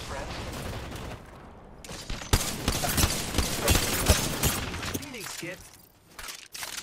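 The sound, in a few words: gunfire in Apex Legends video game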